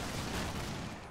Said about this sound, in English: still a bit of fire coming in from the old BTR there